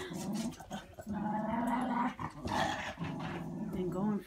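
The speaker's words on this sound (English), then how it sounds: "Karma's trying to tell him to settle down" An adult dog growls at a puppy to settle it down, a close, rumbling growl running through most of the few seconds with brief breaks and a whiny edge.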